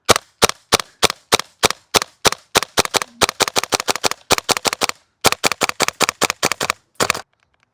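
A WellPro AK12 gas blowback airsoft rifle fires a long string of sharp, loud, snappy shots up close, first spaced singly and then in quicker bursts, ending when the magazine runs dry.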